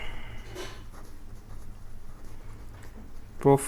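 A pen scratches across paper while accountancy figures are written out, a faint, steady scribbling close by beneath a quiet background hum.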